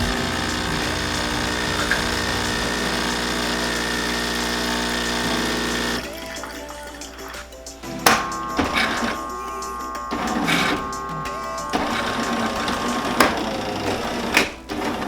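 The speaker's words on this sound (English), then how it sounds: "we can just turn it off now. And it's going to rinse the machine." A Jura Impressa C60 espresso machine runs its rinse cycle after being switched off: a steady pump hum for about six seconds, then quieter intermittent pumping and water gurgles with short bursts, close and fairly loud.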